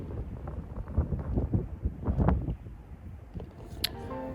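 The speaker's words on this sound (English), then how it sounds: "You also noticed that the wind kicked up quite a bit here today." Wind gusts across a golf course, buffeting the microphone with low rumbling roar that rises and falls, ending with a couple of faint higher sounds.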